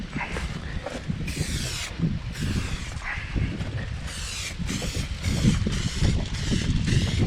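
Gusty wind blows outdoors near a Miata project car, buffeting the microphone in loud, uneven rushes with a few faint knocks mixed in, no talking.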